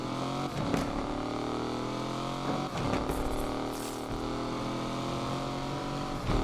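A Crown Victoria in Need for Speed Unbound idles at a high held rev before a race start, a steady buzzing engine drone with small surges, close and sustained with no talk.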